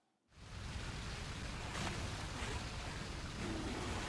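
Waterfall in the PSP game Monster Hunter Portable 3rd gives a steady, rushing wash of water that starts abruptly and holds evenly at a fairly faint level.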